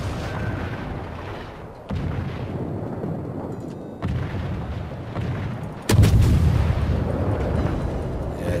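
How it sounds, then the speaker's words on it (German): Naval artillery in the World of Warships game: three heavy booming salvos, roughly two seconds apart, with the third the loudest, each trailing a rumbling roar; no voices. "Klar, mit Steuerbord schießen"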